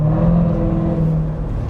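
A C7 Corvette Z06 drives hard, its engine a loud, steady low rumble with a droning harmonic whir held close and continuous throughout, no voices.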